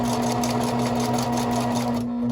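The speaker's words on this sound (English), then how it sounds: "do some back stitches just to lock that in place, and go ahead and sew all the way through" A sewing machine stitches an elastic strap keeper with a loud, even motor hum and rapid needle clatter running continuously at close range, easing off briefly near the end.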